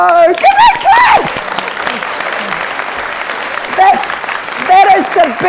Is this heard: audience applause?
yes